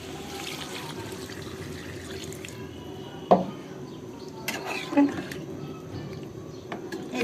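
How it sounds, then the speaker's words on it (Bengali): Broth is poured into a pan of potato curry with a continuous watery splash and trickle, close by, with a couple of clinks of utensil against the pot partway through. "আমি ঝোল দিয়ে দিলাম"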